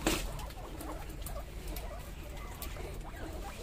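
Hungry guinea pigs squeak in short, repeated chirps over a steady patter of movement while being fed vegetables, fairly faint with no talking.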